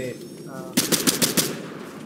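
Gunfire in the Fortnite video game: a quick run of five or six sharp shots, evenly spaced and fairly loud, rising over a quieter game background with no talk.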